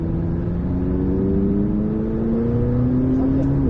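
A McLaren 600LT accelerating hard on a test circuit, its engine note climbing steadily and loud from inside the car, with an instructor's voice speaking over it.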